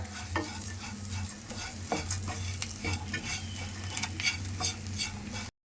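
Steady sizzling of coconut frying in a pan, with repeated scraping and stirring strokes of a utensil throughout.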